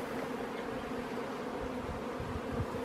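Honeybees at an opened hive make a continuous low, steady buzz that stays even and moderately quiet, with no voices over it.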